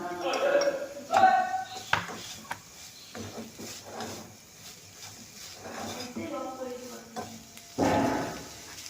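Amul milk is stirred slowly into a batter in a metal bowl, giving scraping and clinking of a utensil against the sides in an uneven rhythm, close by, while someone talks over it.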